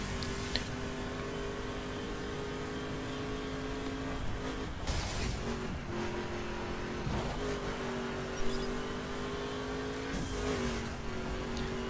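A 2011 Ford Mustang GT driven in The Crew video game, a steady V8 engine drone with gear shifts and revving surges, holding close and loud throughout.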